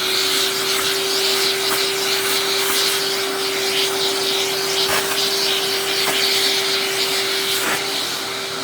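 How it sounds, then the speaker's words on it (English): A vacuum running steadily to remove excess clipped hair from a surgical site in a veterinary surgical prep setting, a loud continuous whine with a steady tone and occasional rubbing or sucking noises, no talk. "Vacuum the excess hair."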